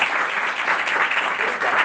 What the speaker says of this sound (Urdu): تو میں چاہتا ہوں ایک بار اپنے لیے ہی زوردار تالیاں ہو جائیں.